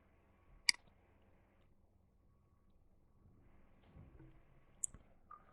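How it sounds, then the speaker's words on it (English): Two faint, sharp clicks of a computer mouse, a few seconds apart, against a near-silent background. "So I'm going to click on the video right away."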